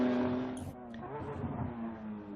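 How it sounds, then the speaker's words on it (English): A Porsche GT3 RS race car, rear tires spinning, revs and accelerates out of turn 11 at a time attack track event, a loud harmonic whine that rises in pitch, close by and dominating the scene. "Just lighting up the rears coming out of turn 11."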